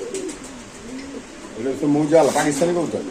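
Racing pigeons coo in repeated throaty calls, close by and moderately loud, with a burst of overlapping coos toward the end.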